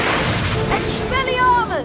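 A magical Expelliarmus spell from the PS2 game Harry Potter and the Chamber of Secrets: a loud, booming burst followed by shimmering, swirling tones that sweep and fade.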